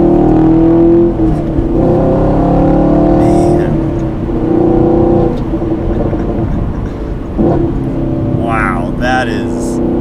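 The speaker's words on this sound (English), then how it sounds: "That is a good sounding factory exhaust." A 2019 Chevrolet Camaro SS 1LE's deep V8 factory exhaust rumbles and revs close by, its engine note rising and falling, with a voice talking briefly over it.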